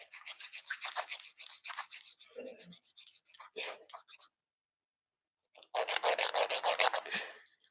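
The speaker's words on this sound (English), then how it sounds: "Let me just file it up on the side just to see." Someone files the side of a polygel acrylic nail, close up, in a run of quick scratchy rubbing strokes, then a short pause, then a denser burst of filing.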